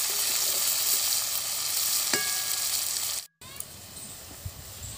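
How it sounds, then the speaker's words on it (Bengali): Chopped onions and green chilies fry in hot oil with a loud, continuous sizzle close by, a brief stir clink midway, then a sudden drop to quieter crackling. "কাঁচা লঙ্কাগুলো একটু হয়ে গেলে পেঁয়াজ কুচি দিয়ে দিলাম, দিয়ে এবার ভালো করে একটু ভেজে নেব।"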